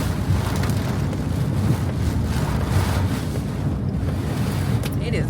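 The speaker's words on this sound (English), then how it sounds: "It is windy out here." Strong wind roars steadily outside a moving vehicle on a rainy drive, a loud continuous buffeting rush with low rumble and no breaks.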